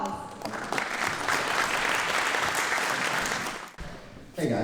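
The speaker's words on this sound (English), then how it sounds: "Give him a round of applause." Guests at a Republican county dinner clap for a congressional candidate, a broad, sustained round of applause that swells, holds, then fades before a voice begins to speak.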